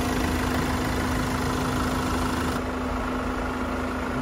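A 2019 Hyundai Santa Fe GLS 4x2 with a 2.2-liter CRDI diesel engine idling close by, a constant low rumble with a steady droning hum and no change in level.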